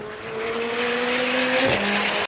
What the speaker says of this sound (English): as you heard, it has a new exhaust system